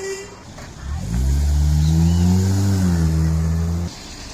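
A taxi drives past on a road in Belize, its engine rising into a loud, close steady drone that holds for a few seconds and then cuts off.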